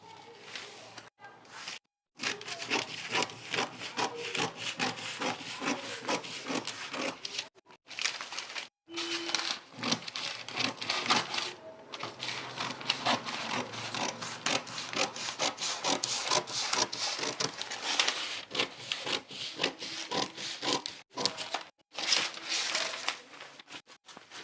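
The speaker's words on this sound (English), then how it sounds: "I will now cut." Scissors cut out a drafted paper pattern for an off-shoulder bustier blouse, giving a long continuous run of close rasping snips and rubbing with a few brief pauses, and no talking.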